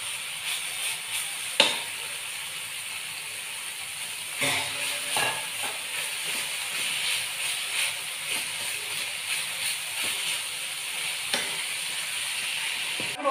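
Homemade noodles stirred in a frying pan with a little black pepper powder added, giving a steady close sizzle with scraping and clicking strokes of the utensil against the pan.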